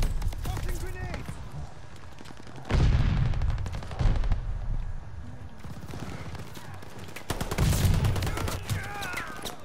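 Grenade explosion and gunfire in the video game Call of Duty: Vanguard, with bursts of shots and heavy blasts punching through a continuous battle din, loud and close.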